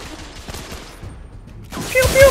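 Gunfire in The Order: 1886, a rattling spread of shots early on, then a short lull before louder, denser firing bursts at the end.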